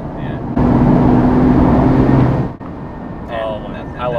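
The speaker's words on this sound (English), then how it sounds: "I love that turbo sound" A car engine surges under hard acceleration with a rising turbo whine, loud and close, then the revs drop away as a voice speaks briefly.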